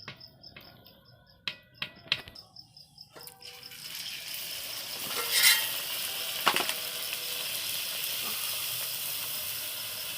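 Luchi flatbread frying in hot oil: after a few sharp clatters, a steady loud sizzle and hiss fills the rest, close by with no one talking.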